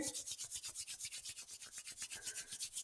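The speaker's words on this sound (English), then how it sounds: "Start by doing this by like rubbing your hands together" Two palms rubbing briskly together in a steady back-and-forth rhythm of quick, even swishes, close and alone with no voices.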